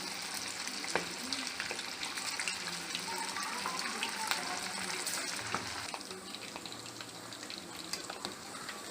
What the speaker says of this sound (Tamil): இப்போ எல்லா பீஸும் நம்ம அதை போட்டு ஃப்ரை பண்ணி எடுக்கணும்.